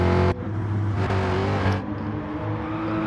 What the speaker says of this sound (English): that Mustang charging down the main straight